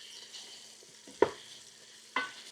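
Vegetables for cheddar cheese soup sizzle quietly in a pan, with two sharp utensil scrapes and clacks against the cookware standing out from the soft frying hiss.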